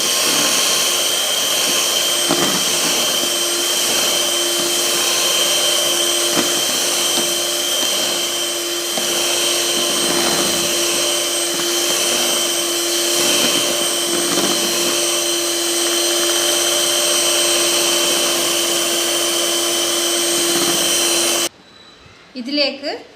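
Electric beater whirring steadily as pineapple puree is mixed into an ice cream mixture, a loud continuous high whine that runs for about twenty seconds before stopping abruptly, with brief handling noise afterward.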